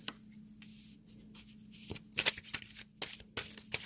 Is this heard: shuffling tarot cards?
yes